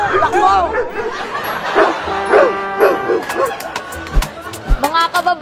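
A dog barks and yips outdoors during a village election campaign, several sharp close barks mixed with whimpers amid frantic shouting voices telling people to run.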